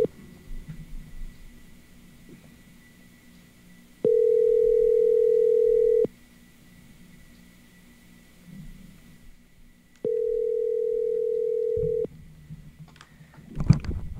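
Ringing tone on a telephone line while calling a contact: two long, steady electronic tones about two seconds each, separated by a quiet gap, with faint background noise between them.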